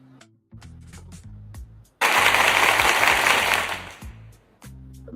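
Applause sound effect in a livestream, a burst of crowd clapping lasting about two seconds that stands out over quieter tonal background sounds, then cuts off.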